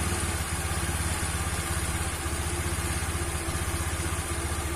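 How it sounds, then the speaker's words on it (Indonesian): An old Lexi motorcycle engine idles slightly rough, a steady close-up putter with a fine uneven clatter running throughout and no voices over it. "Ini suara mesinnya"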